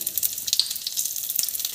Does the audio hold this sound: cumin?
yes